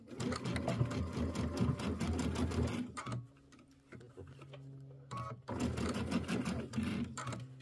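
A sewing machine stitches quilt fabric in loud, rapid bursts, pausing briefly near the middle before running fast again.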